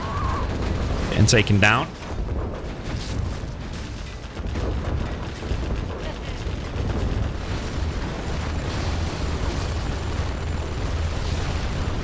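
Artillery strike explosions in the real-time strategy game C&C Generals Zero Hour, a dense low rumble of blasts and bursts under a commentator's steady speech throughout.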